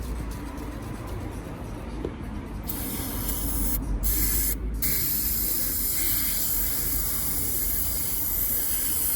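Foaming oven cleaner sprayed as a DIY carbon clean for engine carbon build-up, a steady close hiss running continuously with brief dips, no talking.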